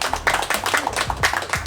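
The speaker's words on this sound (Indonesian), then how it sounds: "Tepuk tangan dong, ya." Several people clap together in quick, uneven rhythm after a women's national basketball team's first SEA Games gold medal, close and fairly loud, with a little voice mixed in.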